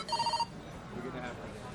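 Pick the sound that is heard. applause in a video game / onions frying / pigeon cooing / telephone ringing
telephone ringing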